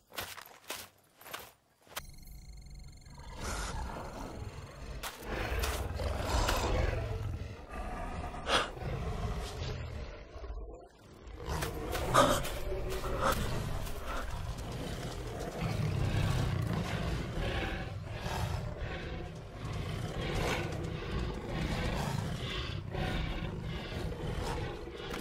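Wolves growling and roaring in a dubbed action film, a continuous rough snarling bed with scuffling movement, loud and close, without dialogue over it.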